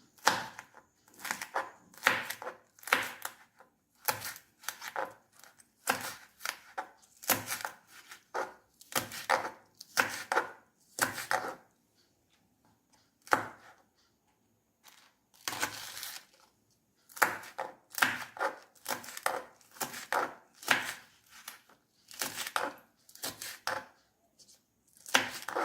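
A knife chops green chillies for parippu vada in quick bursts of sharp taps on a cutting board, separated by short pauses, fairly quiet and close, with no speech.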